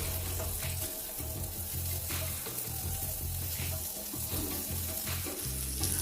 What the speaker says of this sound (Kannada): ಆ ಈರುಳ್ಳಿಯನ್ನು ಹಾಕ್ಬಿಟ್ಟು ಇದನ್ನು ಸ್ವಲ್ಪ ಟ್ರಾನ್ಸ್ಲೂಸೆಂಟ್ ಅಂದರೆ ಪಾರದರ್ಶಕ ಆಗಬೇಕು. ಅಲ್ಲಿವರೆಗೂ ಇದನ್ನು ಒಂದು 2 ರಿಂದ 3 ನಿಮಿಷಗಳ ಕಾಲ ಹುರಿಯುವ